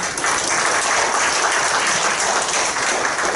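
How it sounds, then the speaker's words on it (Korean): Applause from an audience at a political party's intensive policy workshop fills the room: steady, dense clapping that holds loud and even for the whole stretch, with no talking over it. "박수 한번 주십시오"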